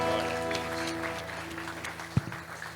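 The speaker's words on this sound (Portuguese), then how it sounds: "Vamos aplaudir o nome do Senhor Jesus." A church congregation applauds during a service. The clapping is moderate and scattered, over sustained musical tones, with a sharp knock near the end.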